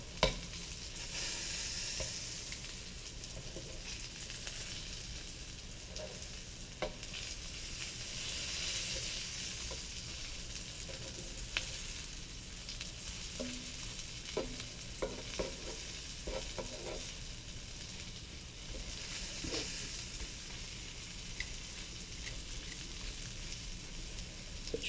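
Thinly sliced fish fries in a pan with a steady, close sizzle that runs the whole time, broken by occasional small pops and crackles.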